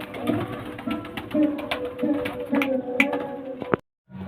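Pigeons coo softly in a steady, repeating rhythm of low throaty calls, with a brief silence at the very end.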